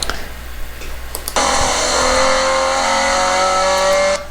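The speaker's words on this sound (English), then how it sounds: "brake, and now we're going to go back down to 2nd gear" A Scion FRS on a track brakes hard, then its engine note jumps as it downshifts to second gear, a loud, steady, high-pitched whine holding close for several seconds.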